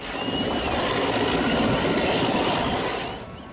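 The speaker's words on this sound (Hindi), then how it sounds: "आसमान पर वायुसेना का MI-17 हेलीकॉप्टर आता है।" An Indian Air Force MI-17 helicopter flies overhead during a flood rescue, a loud, steady rotor and engine roar holding for several seconds before easing off at the end.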